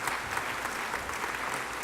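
Steady audience applause with dense, continuous clapping throughout at an even level, likely from people honouring a couple named Harriet and Jeffrey Legum.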